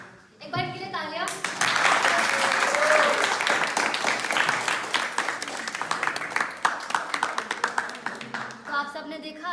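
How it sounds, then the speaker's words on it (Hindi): An audience at a theatre-of-the-oppressed workshop session breaks into loud, sustained clapping after a short scene, individual claps standing out near the end, with voices speaking before and after. "एक बार के लिए तालियां।"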